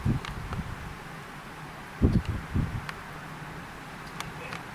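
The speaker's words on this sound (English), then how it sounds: "here comes some more strong wind" Strong gusting wind in a rain storm at a lakeside resort, blowing against the microphone in low rumbling bursts with brief rustling, steady through the clip and loudest near the middle.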